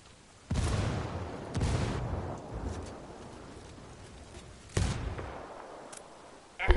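Frag grenade explosions and gunfire in a Ghost Recon Wildlands Ghost War PvP match, several loud booming bursts spaced apart with rumbling decay between them, the last blast cut off at the end.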